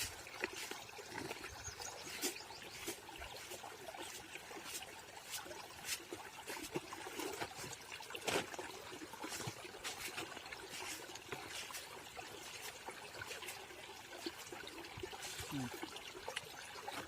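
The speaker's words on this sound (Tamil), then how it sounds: "இப்போ இந்த ஒரு வயலு தண்ணி பாயுது, தண்ணி கம்மியாக தான் இருக்குது." Soft trickling and dribbling water flowing into a rice paddy field, a gentle continuous flow with small splashes, fairly quiet and close.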